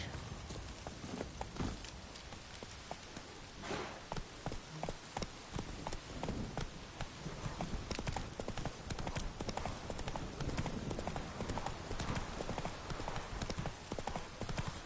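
Roach the horse gallops in The Witcher video game, with rapid, steady hoofbeats drumming close and continuous throughout.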